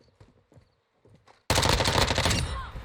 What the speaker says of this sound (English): It's just jumping while firing at your enemy